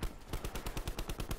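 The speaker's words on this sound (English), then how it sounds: "Teammate shooting at something." Automatic gunfire from a teammate in Call of Duty Blackout, a rapid, steady burst of about a dozen evenly spaced shots, close and loud, with no talk over it.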